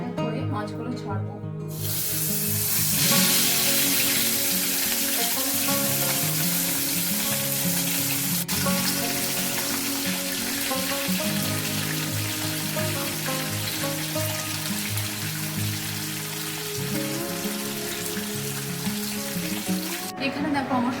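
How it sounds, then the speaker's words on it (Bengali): Parshe fish frying one by one in hot mustard oil in a pan make a loud, continuous hissing sizzle that lasts throughout, with faint tonal background music underneath. "এবার আমি এক এক করে মাছগুলো ছাড়বো।"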